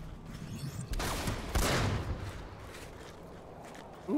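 Gunfire in the PS4 beta of Planetside 2 booms in heavy, close bursts, a couple of loud blasts with rumbling tails over a steady backdrop of distant battle noise, ending on another sharp shot.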